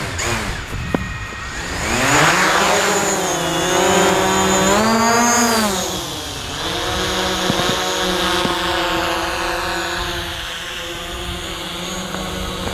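A DJI drone's motors spin up for takeoff and settle into a steady, loud multi-rotor whine while hovering in place, pitch rising and falling slightly as they warm up, with no talk over it.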